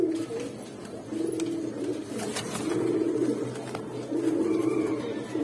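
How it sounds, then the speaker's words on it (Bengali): Caged pigeons at a pigeon shop give repeated low, throaty coos in several rounds, fairly close and alone without talk, over a faint background of shop noise. "কবুতর গুলো ভয় পেয়ে আছে, কখনো খাঁচায় উঠে নাই তো।"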